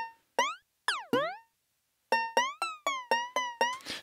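Synth notes in FL Studio with a drastic portamento: a few spaced notes swoop steeply in pitch, then a quick run of notes each slides audibly into place, sounding warbly and out of tune, alone without talk.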